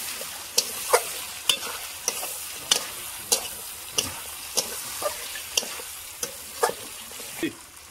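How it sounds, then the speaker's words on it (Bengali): Broiler chicken frying with turmeric and tomato, a low sizzle punctuated by about a dozen evenly spaced scrapes of a spatula stirring the pan. "মাংসটা ভাজা ভাজা হয়ে গেছে, এখন হলুদ দিয়ে দিব। হলুদের সাথে একটু ভাজবো।"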